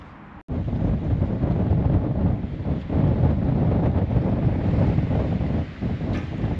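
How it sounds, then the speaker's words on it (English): Strong, steady wind roaring across the microphone on the England Coastal Path between Maryport and Harrington, a loud continuous buffeting rumble that fills the whole stretch after a brief quieter moment at the start. "Get out of that wind."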